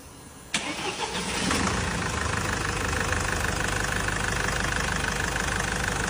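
A Changan Hunter with a swapped-in 646 diesel engine cranks and catches, then settles into a steady, rough, close idle.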